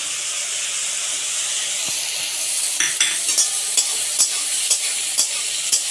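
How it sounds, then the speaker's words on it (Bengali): Chicken and ginger frying in a pan give a constant loud sizzle and hiss, with a spatula scraping and clacking against the pan in repeated strokes as it is stirred. "ভালো করে এটা নেড়ে চেড়ে নেব"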